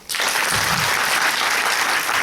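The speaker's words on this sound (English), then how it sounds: "give me one big claps" A large audience in an auditorium bursts into loud, sustained applause after a short quiet start, dense clapping holding steady for about two seconds.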